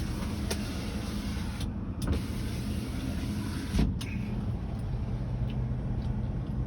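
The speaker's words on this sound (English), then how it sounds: "The power rear window still works." A power rear window motor on a 2008 Dodge Ram 1500 pickup runs as a steady, close whirring hum, with a few faint clicks and knocks along the way.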